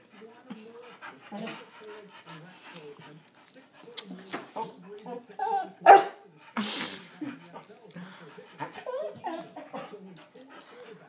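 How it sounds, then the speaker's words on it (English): A dog yaps and pants up close in short, excited bursts, with a voice talking over it and a sharp bark standing out midway. "Why are you barking?"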